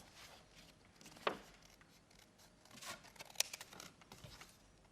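Scissors snip paper Christmas tree shapes in a few faint, separate cuts with soft rustling of paper between them, quiet and close with no talk.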